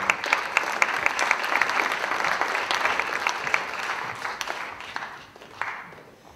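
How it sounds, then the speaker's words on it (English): Audience at a data science hackathon event giving a big round of applause, dense steady clapping from a crowd that gradually thins and fades near the end. "a big round of applause"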